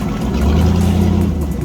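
A jetboat engine revs hard and close on a mangrove run, a steady loud mechanical roar with a low rumbling drone that swells slightly and holds without pause.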